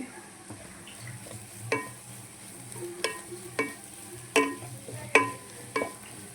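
Fish and carrot fry in a pan while a spatula stirs them, sharp scraping clicks at irregular intervals over a soft, low sizzle.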